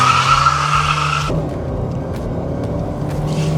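A Ford Fusion family car launches hard from a standstill toward 60 mph, tires squealing loudly for over a second before the engine note drops into a steady, rising acceleration drone.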